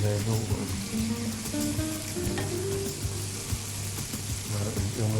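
Potatoes frying in a pan with spices, garlic and ginger give a steady, close sizzle with occasional stirring clicks, while a person talks over it.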